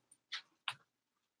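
Pet dog at home during a tabletop baseball replay game, giving two short close sharp yelps or whimpering vocal bursts with silence between, the second stronger, plus a faint snuffle at the start.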